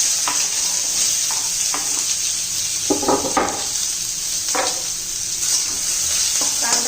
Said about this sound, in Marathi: आता कांदा परतून घेऊया